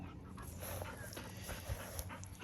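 A farm dog on a hot day in Thailand, panting faintly and steadily after chasing a neighbour's dog off the farm, quick soft breaths with a few small whimpering sounds, heard at low level and fairly close.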